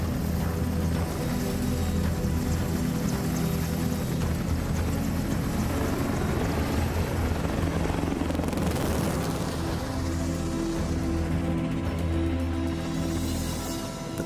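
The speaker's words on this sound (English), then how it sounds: "father of the helicopter, Leonardo da Vinci, would love to fly this helicopter" An EH-101 military helicopter flies past, a heavy continuous roar of engines and rotors that swells to a peak near the middle and then eases, with no speech.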